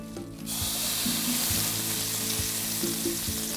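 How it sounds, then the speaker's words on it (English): Salmon fillet sizzling in hot oil in a pan: a loud, steady crackle that starts abruptly as the fish goes in and continues evenly, with faint clinks of a utensil. "So now I'm going to add my salmon to the pan"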